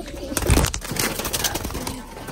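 Semi saddle pigeons coo close by in a loft, low throaty calls repeating over a brief stretch, with a hint of wing movement and faint background voices.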